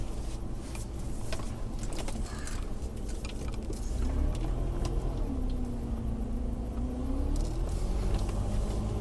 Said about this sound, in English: I'm just going to make a U-turn.